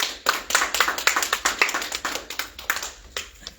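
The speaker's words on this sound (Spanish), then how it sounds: "Aplauso." Applause from a church congregation, a steady patter of many hands clapping for several seconds, fairly close and even, with no talking over it.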